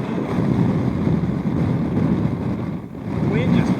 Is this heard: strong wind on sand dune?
yes